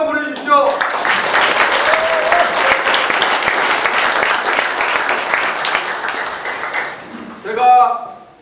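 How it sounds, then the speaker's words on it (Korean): A crowd at a campaign office opening ceremony in Icheon claps hard and steadily for several seconds, a dense wash of applause that fades toward the end. Voices are heard briefly before it starts and again as it ends. "힘차게 박수 한번 보내주십시오"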